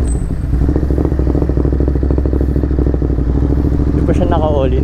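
A Ducati Monster 937 motorcycle accelerates hard, its engine loud and close with a rising growl and mechanical clatter, then a quick shift near the end.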